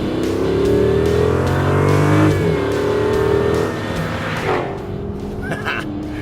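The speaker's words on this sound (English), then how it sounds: "the very familiar bellow of a pushrod V8" Chrysler 300C with a 485-horsepower pushrod V8, revving loud and close with a deep rising bellow, then easing off into a lower rumble with a brief higher whine near the end.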